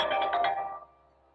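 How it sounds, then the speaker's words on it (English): A phone ringtone goes off during a lecture on the medical use of cannabis. It plays clearly for about a second, then fades and cuts off, with no talking over it. "I apologize for that phone call."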